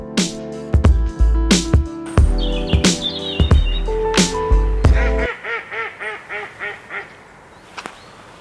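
Ducks at a bird sanctuary quack loudly and close, a burst of overlapping calls followed by a rhythmic series of quacks, with chirping birds mixed in.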